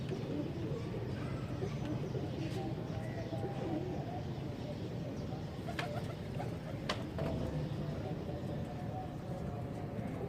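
Soft, low pigeon cooing murmurs on and off against a constant background hum, with a few faint chirps and clicks.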